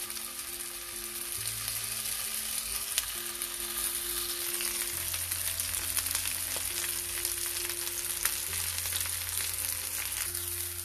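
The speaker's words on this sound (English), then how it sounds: "Now we'll place these one by one and fry them all sides till they become golden brown and crispy." Marinated cauliflower tikka pieces fry in a pan with a continuous, even sizzle close by, a steady hiss with occasional small pops and no talking.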